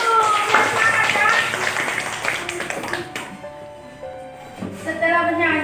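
Young children clap their hands in a classroom, lively scattered clapping for about three seconds that fades into quieter room noise and a teacher's voice.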